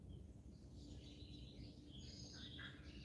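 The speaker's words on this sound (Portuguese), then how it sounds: "Tanto de passarinho cantando." Birds sing outdoors in a faint, distant chorus of chirps and trills over a steady low background rumble, with no voices.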